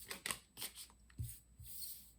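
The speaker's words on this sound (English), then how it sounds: "we're going to keep shuffling" Tarot cards being shuffled, with a few soft riffles and papery flicks heard up close and quietly over a short span, with no talk.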